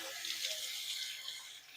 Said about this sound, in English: Wash my hands off.